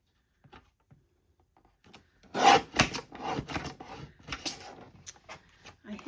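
A blade paper trimmer cutting a card tag made from a time card, a quiet gritty scraping slide repeated in short strokes after a near-silent start, with the blade catching slightly on a nick.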